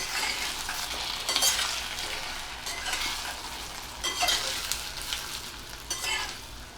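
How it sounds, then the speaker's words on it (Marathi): Steamed bottle gourd vadi stir-fried in a pan with asafoetida, a steady close sizzle broken by several louder bursts of spatula scraping and tossing, no voices. "आता दुधीच्या वड्या ज्या आपण वाफवल्या होत्या त्या आपण घालतोय आणि आता व्यवस्थित परतून घ्यायचं आहे आपल्याला"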